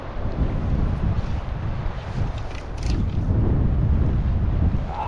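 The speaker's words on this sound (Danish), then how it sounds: "Jeg tror vinden er ved at vende." Strong sea wind buffets the microphone aboard a small fishing boat amid big swells and gusts, a steady loud roar with rumbling low gusts and the wash of water throughout, no talk.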